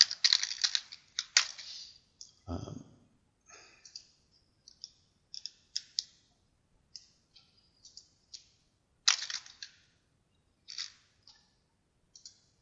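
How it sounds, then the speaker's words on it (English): Irregular keystrokes on a computer keyboard, tapped in short bursts with pauses between, close and fairly quiet, with one low thump partway through; no talking. "And I'll type it in before I tell you what it means."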